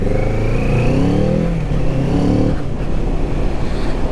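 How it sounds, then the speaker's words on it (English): A Kawasaki Z650 motorcycle overtakes a car. Its engine gives a throaty airbox induction growl that rises in pitch as it accelerates, then steadies into a loud, close drone with wind rush. "This one you can hear more of the airbox sound, has a bit more of that throaty induction sound than you do on the MT07."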